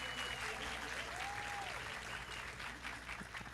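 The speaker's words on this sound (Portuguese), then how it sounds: "Agora uma salva de palmas mais animada aqui para os nossos palestrantes" A dense, steady wash of audience applause for speakers at a conference talk, many hands clapping continuously at even volume throughout, with no pauses.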